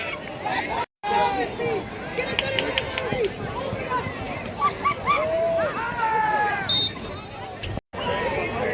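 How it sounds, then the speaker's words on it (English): Excited crowd in the home stands at a high school football game, Hanover Area against Old Forge, with dense cheering, whooping and chatter, nearby voices talking over the steady roar. "this crowd is really, really excited"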